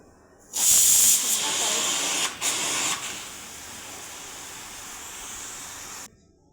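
A pressure cooker whistle bursts loudly with hissing steam while boiling peanuts in their shells, then settles into a steady, softer hiss that cuts off abruptly.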